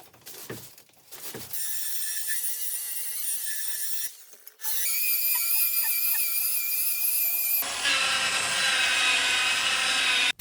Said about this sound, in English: I'll start by polishing the surface lengthwise and then crosswise.